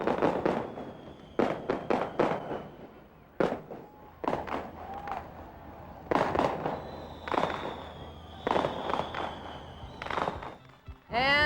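Fireworks set off from a fireworks boat in a 1991 Winterfest boat parade in Fort Lauderdale: repeated sharp bursts in clusters, some followed by whistling and crackling tails, moderately distant.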